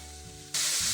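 Onions with salt frying in olive or sunflower oil for a Ukrainian beet soup: a low quiet hum gives way to a sudden loud, close broadband hiss that holds to the end.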